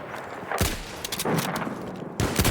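Gunfire in the shooter game Battlefield 1, loud sharp shots at several moments, with a burst near the start, a cluster of reports in the middle and more shots at the end, over steady battlefield din.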